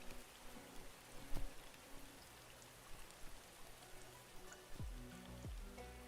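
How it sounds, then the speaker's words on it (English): Rain falling on a planet in the video game Starbound, a steady soft hiss of drops with a few low thumps, heard alone with no talking. "Oh, this planet does have actual rain."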